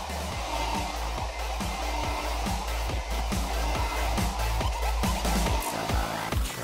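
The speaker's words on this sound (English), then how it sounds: "Make sure you dry again with the hairdryer." A steady, loud blowing hum from a hair dryer drying car parts during painting runs throughout, with rapid rhythmic clicking or tapping patterns layered over it, close to the listener.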